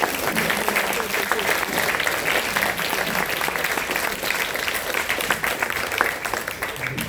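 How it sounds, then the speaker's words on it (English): An audience gives panelists a long, dense round of applause, continuous clapping from many hands that holds steady for several seconds, with faint crowd voices blended in. "can we really give the very best applause we can muster for this high-level, high-standard presentation by these panelists?"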